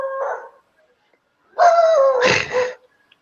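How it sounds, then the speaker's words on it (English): A neighbour's dog barks outdoors at night, a short yelp followed after a pause by a longer, louder burst of two or three barks, fairly close and clear over otherwise quiet surroundings. "that's the next door neighbor's dog"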